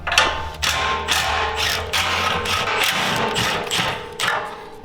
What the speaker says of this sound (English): Now we can remove these 3 Allens.